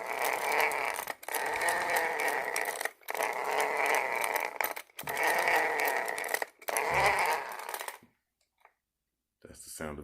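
Redcat Shredder RC car with an upgraded motor and ESC whining and buzzing in loud bursts that rev up and cut off several times, then a short silence before it starts again.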